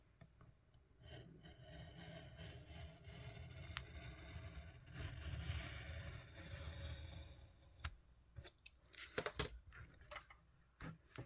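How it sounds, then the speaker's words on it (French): A craft knife blade drawn against a ruler slices through paper for a miniature craft kit, giving a long, steady scraping rasp close up for several seconds, then a few short scratchy strokes and taps toward the end. "Je prends ma lame et je colle ma lame contre ma règle."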